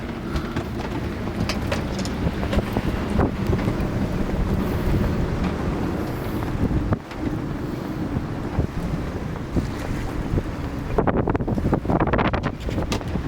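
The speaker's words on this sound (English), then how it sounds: "get out of the wind a little bit" Strong wind roars steadily against the microphone on a sailboat in the Berry Islands, with gusty buffeting and rushing noise throughout and no voices.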